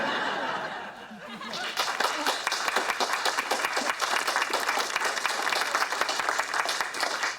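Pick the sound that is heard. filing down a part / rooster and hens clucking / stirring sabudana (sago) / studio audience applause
studio audience applause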